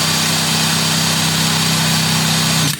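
A powerful cordless impact wrench with a 3/4-inch square drive runs loud and steady with a dense buzzing whine, cutting off abruptly at the end.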